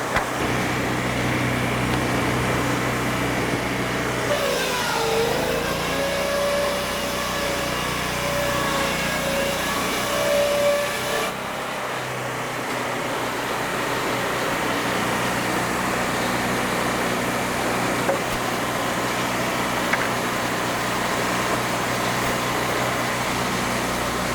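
Board edger sawing lumber with a third blade, a continuous loud machine drone with a rising and falling blade whine as a board feeds through, heard nearby with no talk.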